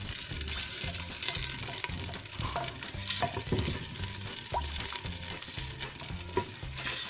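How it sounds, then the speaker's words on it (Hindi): Garlic ginger paste sizzles steadily in hot ghee while a spoon scrapes and stirs the pan in an irregular rhythm, close by, with no voices. "हम इसके अंदर 1 टीस्पून लहसुन अदरक का पेस्ट ऐड करेंगे और इसे साथ साथ मिक्स करेंगे"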